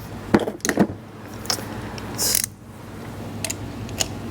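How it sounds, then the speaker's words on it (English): Hand ratchet clicking as it loosens a 14 mm spark plug on a Mazda CX-90 engine: several quick bursts of close metallic clicks separated by pauses, with a scraping rattle near the middle, no talking. "Hand ratchet, loosen it."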